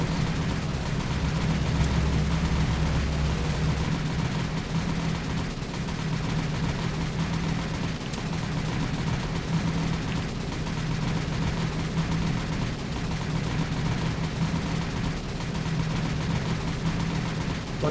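Naval gunfire in the War on the Sea video game: repeated heavy booming shots over a steady low engine drone, continuous dense battle noise throughout with no talk.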